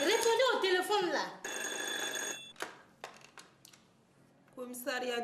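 A telephone bell rings in a steady electronic burst between stretches of talking at a police station, with a few sharp clicks before the voices return.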